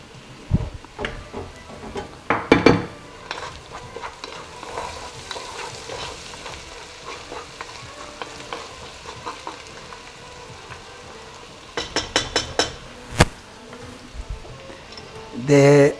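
Onions frying in a pan for Persian dampokhtak with yellow fava beans: a steady sizzle runs throughout, with scraping and clinking utensil strokes and louder bursts near the end.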